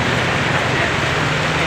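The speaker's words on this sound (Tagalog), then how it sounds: "Napakalakas ang ulan." Heavy rain pours down on a road near a parking area, a dense, loud, steady hiss with traffic faintly underneath.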